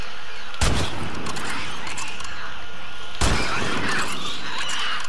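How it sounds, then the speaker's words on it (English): Shotgun blasts in the video game The Last of Us Part II: two loud, sharp booming shots about two and a half seconds apart, each with a lingering tail over a busy game background. "Yeah, shotgun baby."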